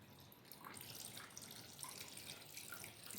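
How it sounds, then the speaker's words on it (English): Water streams steadily from three holes punched at different heights in a container, a continuous close splashing and pouring with no pauses. "Water coming from the topmost hole has covered less distance as compared to water oozing out from the bottommost hole."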